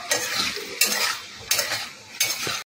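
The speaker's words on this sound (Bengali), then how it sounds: "এটাকে নেড়ে ছেড়ে একেবারে ভাজা ভাজা করবো। এখনও মিনিট দুয়েক সময় লাগবে, নাড়তে থাকি অনবরত" A utensil scrapes and stirs drumstick and potato in a pan, four sweeping strokes at a steady pace over a soft frying sizzle, close up with no voices.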